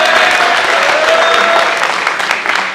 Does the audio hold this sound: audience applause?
yes